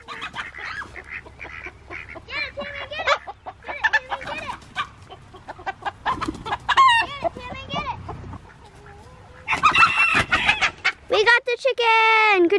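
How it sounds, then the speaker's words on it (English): Several loose backyard chickens cluck and squawk among a few goat-like cries, moderately close, with a voice briefly calling out. "Chicken!"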